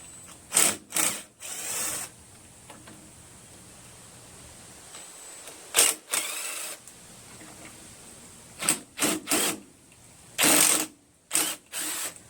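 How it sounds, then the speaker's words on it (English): A socket wrench ratchets against the flywheel of a water-logged 16 hp Briggs OHV engine on a Craftsman LT1000 lawn tractor: short bursts of sharp pawl clicking, close and alone, separated by quiet pauses. "get a socket, and try to turn it slowly"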